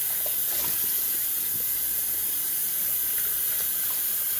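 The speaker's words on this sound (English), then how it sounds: "And then I just rinse the bowl out" A sink tap runs steadily while a bowl is rinsed in a kitchen, producing a constant hissing rush of water with faint splashes, close by and with no talking.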